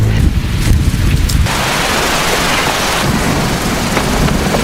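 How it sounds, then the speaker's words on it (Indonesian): Heavy rain driven by strong wind at night, a dense, steady roar of falling water with a low rumbling swell in the first second or so, continuous and loud throughout. "Dalam gelapnya malam, dengan cuaca hujan dan angin kencang"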